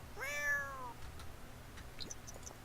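Hairless Sphynx cat in The Sims 4 game giving a single clear, drawn-out meow at the start, followed by faint small ticks and clicks, close and quiet with no talking.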